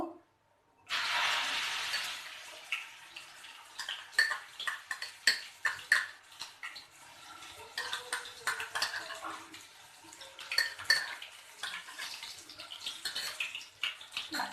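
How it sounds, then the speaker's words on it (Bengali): Poppy seed paste for aloo posto hitting hot oil in a pan, a broad sizzling hiss from the start with scattered clinks and stirring scrapes, close and fairly quiet. "তেলটা গরম হয়ে গেছে। এবারে আমি পোস্ত বাটাটা দিয়ে দেব।"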